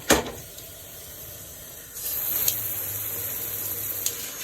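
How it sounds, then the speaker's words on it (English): Water spraying from a high-pressure handheld shower head, a steady hiss that starts quietly and strengthens after a couple of seconds, with a few faint clicks and knocks on top, close and alone. "And I got water running down my arm."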